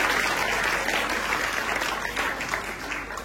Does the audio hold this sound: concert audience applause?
yes